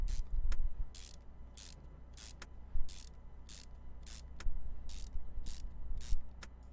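Repeated short ratchet clicks in Car Mechanic Simulator 2021 while bolts are removed on the engine around the belt tensioner, a rhythmic run of quiet bursts over a low hum.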